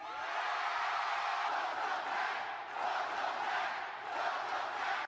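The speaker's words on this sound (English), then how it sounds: "Capacity crowd is screaming." Capacity crowd in a wrestling arena screaming and roaring continuously at full volume, a dense, sustained wall of voices swelling and dipping slightly throughout.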